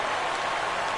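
A baseball stadium crowd of over 39,000 in a PS4 baseball game roars on their feet in a brief, dense, even wash of cheering.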